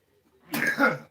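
A single sneeze bursts out after a faint intake of breath, a short, loud, breathy explosion lasting about half a second, heard alone without talk.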